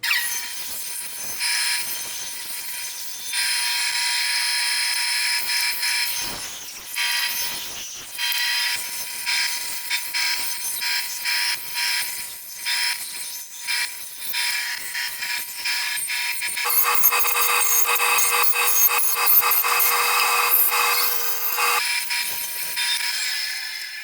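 Steady, loud bandsaw whine as a wooden knife is cut, the tone shifting and rising in intensity partway through as the blade bites into the wood, with no talk.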